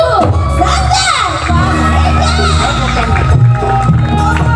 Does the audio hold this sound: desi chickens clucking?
no